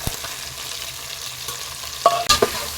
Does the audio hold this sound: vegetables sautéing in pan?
yes